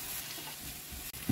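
Tomato and masala frying in a pan over a low to medium flame for egg curry, a steady soft sizzle with faint stirring scrapes and a brief clink near the end.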